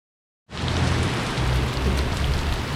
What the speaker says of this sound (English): Just one of those rainy afternoons.